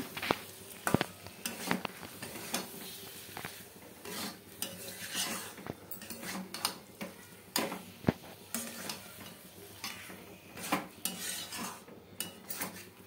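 Fried potatoes tossed with spices in a pan for Bengali katla fish kalia: a steady run of close metal spatula scrapes and clinks against the pan over a faint sizzle, with no talking.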